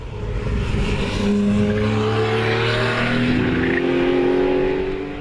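Race car lapping a track, loud close engine with rising and falling pitch through gears and some tire squeal, continuous for a few seconds without talking.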